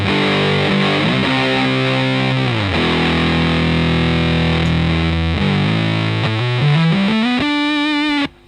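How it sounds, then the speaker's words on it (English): Loud, fuzzy distorted guitar power chords through a Data Corrupter pedal ring out in sliding changes, thick and saturated, ending with a higher sustained chord that cuts off. "You can play power chords with it."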